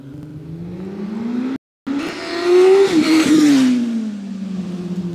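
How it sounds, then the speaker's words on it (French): Small motorbike passing close by, its engine whine rising in pitch and loudness to a peak midway and then dropping away, with a brief cut partway through and no speech. "il y a une petite moto qui vient de passer à côté de moi"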